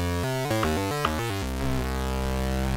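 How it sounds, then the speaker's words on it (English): A classic pulse-width synth bass plays in Ableton with a buzzy, hollow tone. A short stepping run of notes is followed by one long held note, clear and alone. "Just really classic, normal kind of pulse width-y kind of bass."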